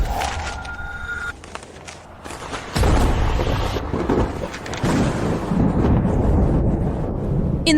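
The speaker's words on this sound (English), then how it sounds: "In the middle of this snowstorm, why is there thunder and lightning?" A deep thunder boom in a snowstorm, used as a drama sound effect, hits suddenly after a quieter, rustling lead-in and rolls on as a loud, sustained rumble.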